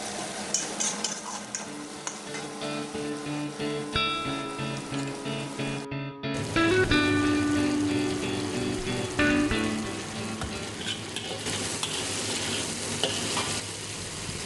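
Tamarind juice simmering in a pan while being stirred, part of making a salted shark fish fry, with a steady close bubbling sizzle and repeated scraping stirs running throughout, no voices.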